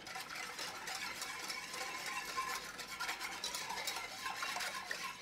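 Custard with vanilla being stirred in a pan over a flame, a steady scraping, clinking swirl close up with no voices.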